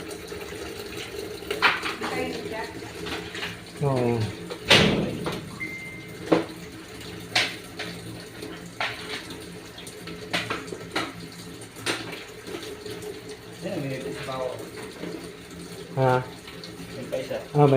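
Running water pours steadily into a machine tub, with clattering and short bursts of talk over it.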